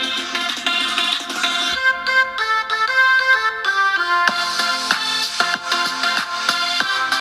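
Ringtone melody from a Blackview BV9200 rugged smartphone's speaker, played with the phone flipped face down, a steady bright tonal tune running continuously at moderate loudness.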